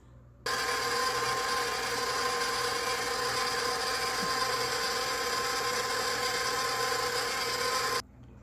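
An electric mixer whirs continuously through cake pop dough in a bowl, a steady bright buzzing that starts abruptly and cuts off after several seconds.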